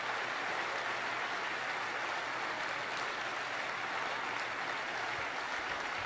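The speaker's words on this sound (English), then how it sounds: "just want to give them another big round of applause" Big crowd applause for performers at an outdoor show, a continuous, wash-like roar of many hands clapping at a distance, steady and unbroken throughout.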